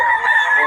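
Rooster crowing at a chicken seller's from Batangas, one sustained, harmonic crow held for the length of the short clip, loud and close.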